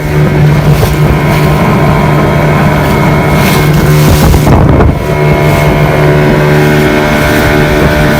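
A small motorboat engine drones steadily with a constant hum on the crossing to Prison Island off Zanzibar, wind buffeting the microphone throughout, loud and close.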